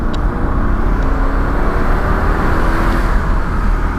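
A 2004 Mercedes-Benz CLK500 convertible with a manual shifter pulls hard on a two-lane road, its engine droning loud and steady as the revs climb under constant road and wind rush.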